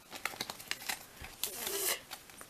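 A foil Match Attax 2014-2015 trading card pack is torn open up close: scattered crinkles and small rips build into one longer tearing rip, then fade to light rustling.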